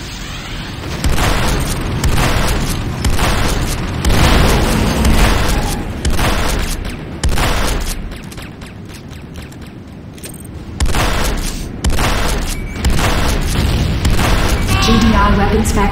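Explosions and gunfire as a GDI refinery is destroyed in the game Renegade, heavy booms rolling in repeated waves with bursts of shots between them, loud and close, with a voice speaking over them.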